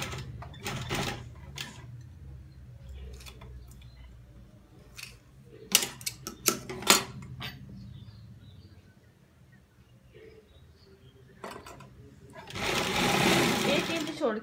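A sewing machine stitches an embroidered neck design on plain fabric backed with buckram, buzzing in bursts between quieter handling noises and snips, with someone speaking nearby over much of it.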